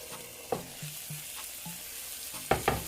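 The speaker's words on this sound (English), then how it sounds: "let it fry up, and you keep rotating it until it fries" Chicken breast fries in a pan with a steady, moderate sizzle, punctuated by a few sharp clatters and scraping knocks as the pieces are turned.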